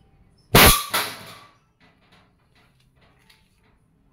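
A Crosman 1322 multi-pump air pistol fires once at a can from close range, a sharp crack followed by a second metallic hit, then quiet with faint small clicks.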